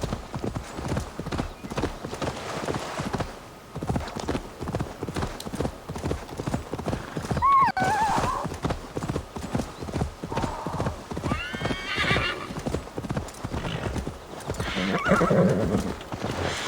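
A horse gallops in Assassin's Creed Valhalla, its fast, even hoofbeats loud and close for the whole stretch, with several neighs and whinnies and occasional talking on top.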